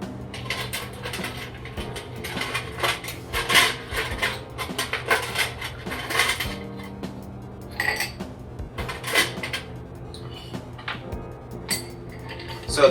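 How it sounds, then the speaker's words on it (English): A bar spoon stirring an Old Fashioned cocktail in a glass, with repeated close clinks and rattles of ice against the glass in uneven bursts over a low, steady background hum. "And we're going to stir this up the same way we did before."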